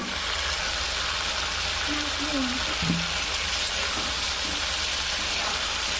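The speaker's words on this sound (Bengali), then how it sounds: "মশলা থেকে তেল ছেড়ে এসছে, এবার জিরে রাখা মাছগুলো দিয়ে দিব" Cumin-spiced fish pieces added to oil in a pan of cooked-down masala, frying with a steady close sizzle and a couple of faint tonal squeaks in the middle.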